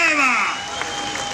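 A Musanze crowd claps for a gospel singer, a short burst of mixed applause and cheering at the tail of fading sung or sliding tones, lively but brief.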